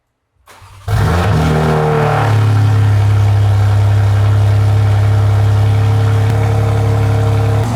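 A BMW G80 M3 engine with a catless downpipe and 4-inch exhaust cranks and fires up on a cold start after a brief whir, then settles into a loud, rumbling high idle that holds steady.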